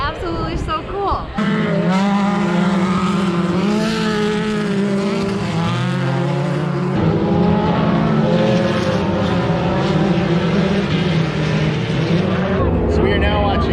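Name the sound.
pro stock drag race cars racing side by side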